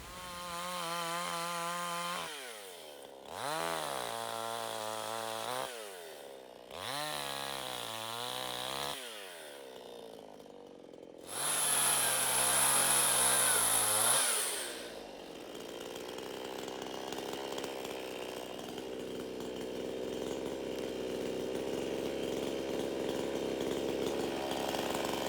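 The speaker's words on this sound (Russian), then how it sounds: "В принципе, его мы сейчас и пильнем." A chainsaw in a snowy forest after a blizzard revs in several short bursts, then settles into a longer, steady cut through a dead tree that has come away from its roots and hung up in neighbouring trees.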